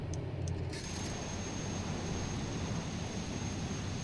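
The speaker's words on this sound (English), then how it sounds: "we're going to go into a number 1 engine start. Here we go, starting number 1." Learjet jet engine number one spooling up during a start in a flight simulator, a steady broadband whine and rush that holds evenly throughout, with a high tone rising in just under a second.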